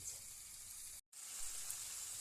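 Potatoes sizzle steadily in a hot pan, a constant bright hiss with a brief cut partway through.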